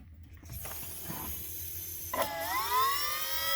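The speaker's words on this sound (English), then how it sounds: "And that's the pump running right there." The power steering pump on an '86 Foxbody Mustang runs up close. A few mechanical clicks come first, then a rising whine that climbs and holds steady under a faint hiss.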